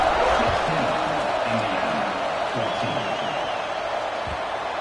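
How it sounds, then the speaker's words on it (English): Stadium crowd at a football game keeps up a loud, steady roar and murmur of many voices, broad and continuous throughout with no single voice standing out. "this crowd is buzzing after that last score"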